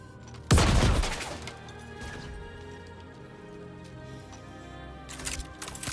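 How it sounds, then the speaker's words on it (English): Grenade detonating in the shooter game Star Citizen: one sharp, loud blast that decays into rumbling debris, followed by quieter ambience and a few smaller pops near the end. "Grenade! Run!"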